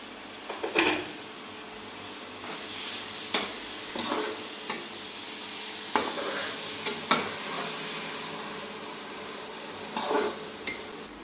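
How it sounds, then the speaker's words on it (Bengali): Hot water poured into frying masala for a thin country-chicken curry, with a spoon stirring against the pot amid steady sizzling and several sharp scraping clacks, close up and with no talk. "এর ভিতর দিয়ে দেবো সামান্য পরিমাণে একটু গরম জল।"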